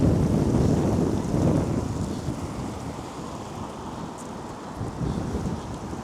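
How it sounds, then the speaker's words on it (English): Strong wind buffets the microphone in a continuous low roar in Heihe, a Chinese city on the Russian border, loud and rumbling throughout with no voices. "Chad, it's really windy. I'm gonna try blocking the mic a little bit extra for you guys."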